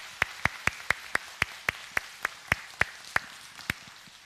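About fifteen sharp, evenly spaced claps ring out one at a time in a church after a prayer, close and distinct over a quiet room rather than a full crowd ovation.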